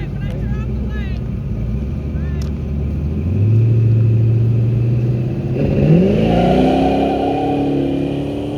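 A Ford Ranger with a 5.3 engine street races a Lexus all-wheel drive in Mexico. Engines rev and climb in pitch through gear changes, loud and close, under occasional voices.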